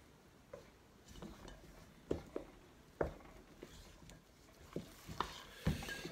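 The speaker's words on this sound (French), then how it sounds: "Et je remue avec une spatule." Spatula stirring a potato mixture with two eggs for potato croquettes: soft scraping and occasional sharp clicks of the spatula against the bowl, irregular and faint, with no talking.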